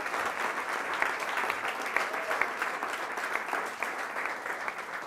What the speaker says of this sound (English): Let's give Tempo another round of applause.